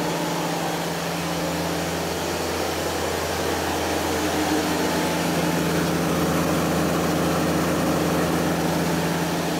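A Kubota BX compact tractor engine fitted with a HydrosPlus Turbo+ runs at wide open throttle, a steady loud drone with a constant hum and no talking, holding even throughout.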